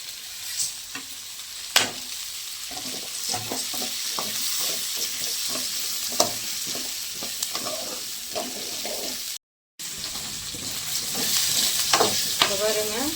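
Masala for fish curry sizzles in a pan while being stirred, with repeated sharp scrapes and clinks of the spoon over a steady frying hiss, broken by a brief silent gap.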